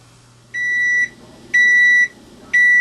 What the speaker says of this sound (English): Okay, well there's the timer.